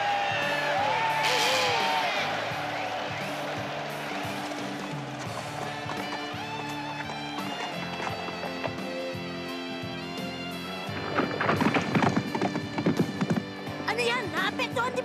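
Black racehorse number 2 enters the track in an anime horse race, hoofbeats and whinnies mixed with a busy crowd under continuous commentary, with a louder burst of crowd cheering near the end.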